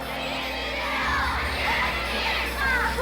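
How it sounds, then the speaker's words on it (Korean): A large crowd of protesters roars and shouts at a 1960 street demonstration, a dense mass of voices heard at a distance with rising cheers, sustained and loud across the whole stretch. "이날은 새벽부터 터져나온 시위대의 함성 소리와 함께 밝았습니다."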